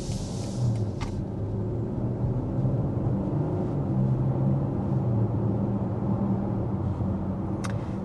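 Muted road rumble inside the cabin of a 2024 BMW X5 cruising along, a faint steady low drone throughout with a couple of soft clicks, no voices.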